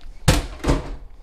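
A pistol security container, a biometric residential model, dropped onto its back edge gives two heavy thuds about half a second apart, the first sharp impact followed by a second landing or tip-over, close and loud.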